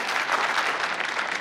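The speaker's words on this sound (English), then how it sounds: "Let's give them a big round of applause." Loud, dense audience applause at a space exploration conference, many hands clapping continuously and close throughout.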